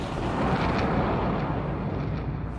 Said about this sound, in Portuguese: uma grande explosão, conhecida como Big Bang